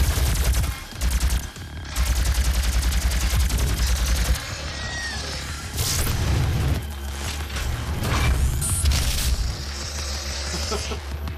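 Plasma rifle fire in the Doom video game, heard as dense, continuous rapid shots layered with booming impacts and game effects, loud and sustained throughout.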